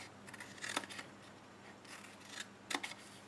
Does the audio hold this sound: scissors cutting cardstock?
yes